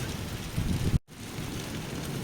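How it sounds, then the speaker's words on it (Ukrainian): Steady rain pours down during a thunderstorm in a small town on the Camino de Santiago, with a deep low rumble of thunder under the hiss before a brief dropout. "Вийшов з магазину, блискає, гримить, дощ іде."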